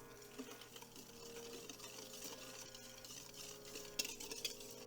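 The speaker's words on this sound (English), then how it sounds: "I'm gonna whisk this together just so that the sugar can dissolve." A whisk stirs olive oil, cognac and sugar in a bowl, giving a steady, quiet scraping swish with faint clinks against the bowl, close and continuous.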